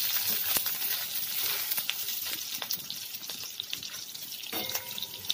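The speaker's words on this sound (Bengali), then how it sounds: "পনিরের টুকরোগুলো আমি গাওয়া ঘিয়ের মধ্যে দিয়ে দিলাম, দিয়ে হালকা করে আমি একটু এটা ফ্রাই করে নেব।" Paneer pieces frying in ghee in a kadai: a steady close hiss and sizzle with small crackles throughout, no talking.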